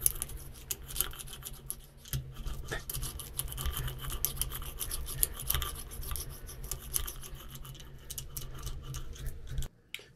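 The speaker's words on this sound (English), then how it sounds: "Now I'm going to use that whirly-do. Try to rub it as best we can." Rotary tool rubbing and buffing a patch on a punctured SHERP all-terrain vehicle tire, a steady close rasping whir with continuous scratchy texture for about ten seconds, ending abruptly.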